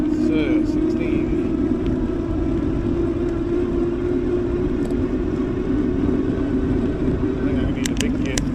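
A Duotts C29 48V electric bike runs flat out with its restrictor removed, giving a steady motor whine and wind rush at close range, with a rider talking occasionally.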